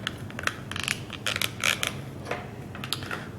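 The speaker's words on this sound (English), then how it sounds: "playing with this controller is a lot of, you hear that, it's a lot of loose plastic" Loose plastic parts of an Edladdin Super Twin 78 arcade controller rattle and click in quick irregular bursts as the stick and buttons are worked, fairly close but not loud, with a steady low hum underneath.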